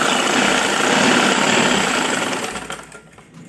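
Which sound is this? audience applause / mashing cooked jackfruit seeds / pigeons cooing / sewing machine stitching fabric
sewing machine stitching fabric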